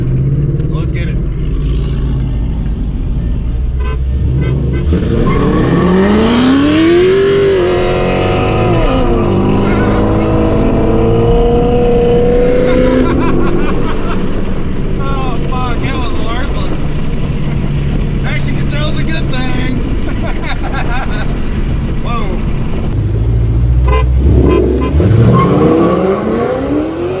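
An LS-engined car and a Ford Coyote-powered car race as daily drivers, loud engines revving and shifting up through gears with tire spin, near and sustained, people talking over the roar.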